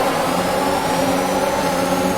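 Formula 1 race cars in the F1 2021 video game at the Italian Grand Prix at Monza, engines droning loudly and steadily together as the race begins, a dense continuous high-pitched roar with no talk.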